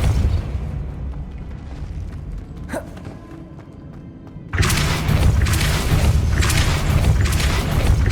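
Depulso spell cast in Hogwarts Legacy: a brief whooshing crack, then a few seconds later a loud, booming burst that rolls on with crackling, rumbling bursts to the end.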